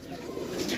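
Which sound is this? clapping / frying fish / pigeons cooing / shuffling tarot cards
pigeons cooing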